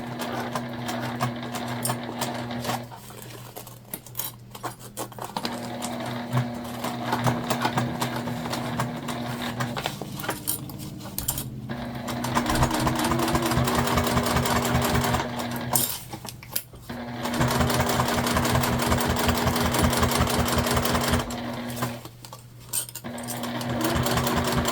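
A sewing machine stitches an Explorer Sling in long, loud runs of rapid needle chatter, pausing briefly several times before starting up again, with a steady motor hum underneath.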